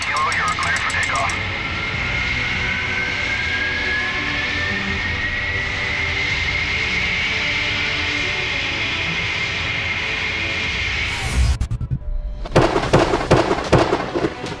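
An airplane taking off, a loud sustained engine roar with a rising whine lasting most of the clip, cut off abruptly near the end by a burst of broadband noise.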